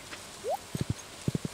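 Horse hooves clip-clopping in Stardew Valley, two quick sets of three crisp taps, close and clear, preceded by a short rising chirp.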